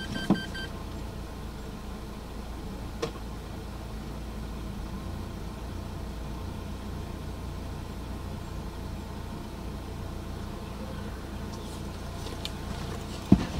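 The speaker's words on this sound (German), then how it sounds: "Und Moment, ein Mähroboter." A faulty robotic lawn mower, stuck against a car, runs with a thin, steady electric buzz, close and fairly quiet, broken by a few small knocks.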